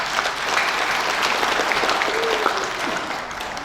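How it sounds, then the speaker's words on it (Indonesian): Applause for graduating nursing students at an academy graduation ceremony in Medan, a full, steady crowd clapping that fills the hall and holds evenly before tapering slightly at the end. "Tepuk tanganlah untuk anak-anak dan adik kita."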